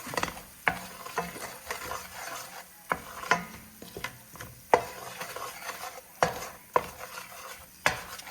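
Flour being stirred into oil over low heat for a roux, a soft continuous sizzle under repeated scraping strokes and sharp utensil knocks against the pot, close and without talk.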